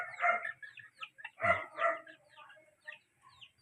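Fighting-cock chickens clucking and crowing close by: a series of loud, harsh squawks and crows in irregular bursts, with short gaps of quiet between them.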